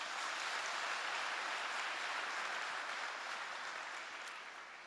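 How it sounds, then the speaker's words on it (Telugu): Applause from a church gathering honouring a bishop's wish for a Bible in Telugu and Savara, a steady broadband patter that fills the whole stretch and fades slightly toward the end. "చప్పట్లు కొట్టరా దీనికి?"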